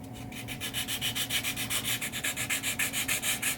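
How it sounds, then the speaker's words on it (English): A resurfaced pinball machine shooter lane is sanded by hand, with quick rhythmic back-and-forth rasping strokes, close and steady for several seconds. "with the sanding too, try not to hang out in one little spot"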